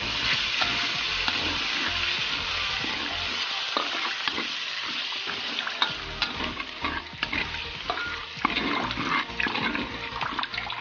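Food for shredded chicken floss is stirred in a frying pan with repeated scraping and clattering strokes over a constant sizzle and bubbling broth, close and fairly loud.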